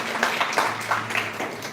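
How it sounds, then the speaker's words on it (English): Applause for Senator Harris at a Thornton Township board meeting, steady crowd clapping filling the room for nearly two seconds with no talk over it. "Give him a big round of applause for everything he does every day."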